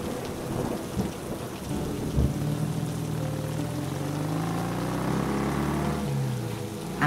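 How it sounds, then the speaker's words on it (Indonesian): Heavy rain pours steadily in a dense, unbroken hiss, with low rumbling tones beneath throughout and a brief thump near the end. "Kalau hujan-hujan gini."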